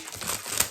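Wrapping on a mail package crinkles and rustles steadily for under a second, with one sharper crackle near the end, close and fairly quiet.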